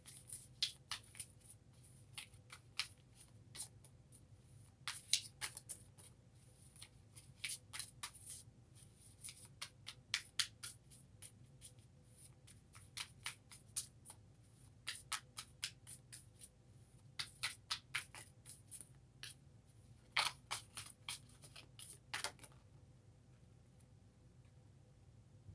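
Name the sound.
shuffling a deck of reading cards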